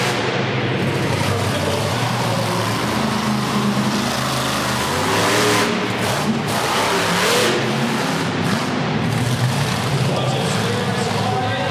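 Monster truck engine revs loudly at the Covelli Centre arena in Youngstown, Ohio, during a Toughest Monster Truck Tour run, a dense roar that rises and falls continuously with arena noise and faint announcing voices beneath.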